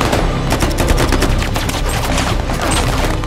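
A dense exchange of gunfire in a film battle with Taliban fighters, continuous loud overlapping shots and bursts with no pause.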